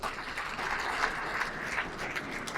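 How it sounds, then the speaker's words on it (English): A crowd claps in a steady, dense round of applause that holds for the whole stretch, heard from a little distance. "they deserve a round of applause"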